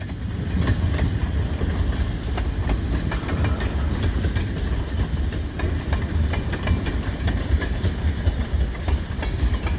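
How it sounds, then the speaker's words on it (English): A long southbound freight train rolls past close by at moderate speed, a loud continuous rumble with steady clickety-clack of wheels over rail joints and faint engine drone throughout. "Got a pretty good sized train going south."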